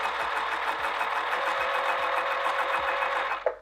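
A sewing machine runs a basting seam at long stitch length, a fast steady mechanical whir with a regular needle knock before it stops abruptly.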